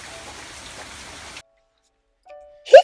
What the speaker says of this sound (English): He can go like the rain.